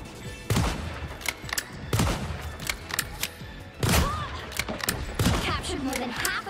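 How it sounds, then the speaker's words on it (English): Black Widow's electroplasma explosion ability in the video game Marvel Rivals sets off repeated sharp, crackling blasts in quick bursts amid gunfire-like game effects. "Q is electroplasma explosion"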